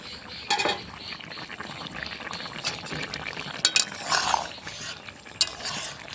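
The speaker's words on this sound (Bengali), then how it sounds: "তরকারিটাকে ঢাকা দিয়ে আরও 2-4 মিনিট ফুটিয়ে নেব" Vegetable curry with potatoes, drumsticks, ridge gourd and lentil dumplings bubbles in a pot, a soft continuous simmer with scattered clinks and a brief louder rattle near the middle, close and without talking.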